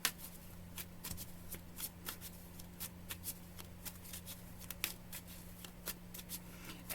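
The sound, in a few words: shuffling and pulling cards from a card deck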